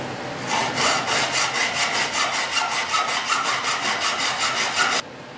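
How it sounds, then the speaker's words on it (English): A hacksaw cuts through metal track sections for a drill press table, steady rhythmic back-and-forth strokes about four per second, close and loud, running for several seconds and then stopping abruptly. "Now it's time to take a hacksaw. We're going to cut these down."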